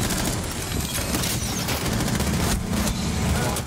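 Sustained video game gunfire, dense and loud, with rapid shots layered over a constant rumble of action and effects that fills the whole moment.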